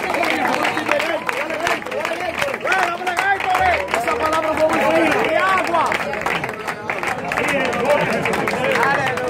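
A church congregation at an evening worship service applauds loudly and continuously, with a thick wash of clapping mixed with cheering and voices throughout.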